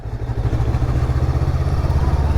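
Daytona Rockstar 500 motorcycle engine running steadily while being ridden, a loud, close, continuous low throb with a rhythmic pulse and no talking.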